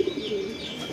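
Racing pigeon cooing in a loft, a low soft coo running steadily through the whole second, close and fairly quiet with no talk.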